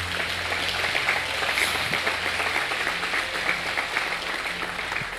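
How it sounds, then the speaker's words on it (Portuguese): A church congregation applauds during a Sunday service, a dense steady wash of clapping that holds at an even level throughout. "Vamos aplaudir a Ele."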